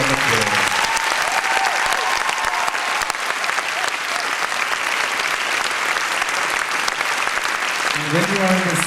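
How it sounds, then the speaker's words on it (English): Sustained audience applause at a ballet competition awards ceremony, a dense, even wash of clapping lasting several seconds, with a speaker's voice briefly audible at the start and end. "And I think they all need a big round of applause."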